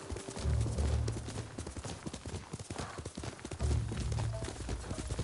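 Steady clip-clop of horse hooves on hard ground at a walking pace in the video game Ghost of Tsushima, close and rhythmic, with low ambient rumble underneath.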